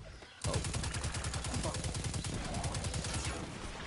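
Rapid automatic gunfire from a video game, a steady stream of evenly spaced shots that starts abruptly and keeps going loud and close to the end with no pause, a faint voice underneath.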